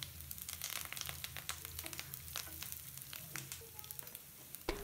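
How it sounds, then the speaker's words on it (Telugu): Onion and garlic frying in oil in a pan for a bitter gourd curry, a steady close sizzle with scattered crackles and light stirring scrapes, and a sharp clink near the end. "1 ఉల్లిపాయ కాస్త ఫ్రై అయ్యాక కచ్చా పచ్చాగా చేసిన 1 టీ స్పూన్ వెల్లుల్లి వేసి ఫ్రై చేయండి"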